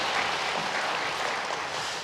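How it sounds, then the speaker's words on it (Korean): Steady applause from a church congregation during a Sunday service fills the whole clip, even and sustained without pauses. "교우들 마음 다해서 한번 박수로 환영하겠습니다"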